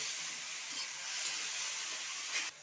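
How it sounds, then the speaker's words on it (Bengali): Ground spice paste for a live lata fish curry sizzles steadily in a hot pan, a continuous close hiss that stays even before dropping slightly at the end. "এখন আমি এই বাটা মশলাটা পুরো ঢেলে দিয়েছি দিয়ে এখন কিছুক্ষণ কষিয়ে নেব"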